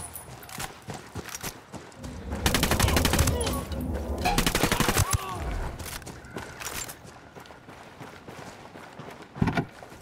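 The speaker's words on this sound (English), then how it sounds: "I'm opening fire" Rapid bursts of automatic gunfire in the Ghost Recon Wildlands video game, loud and sustained in the middle with scattered shots before and after, mixed with game ambience.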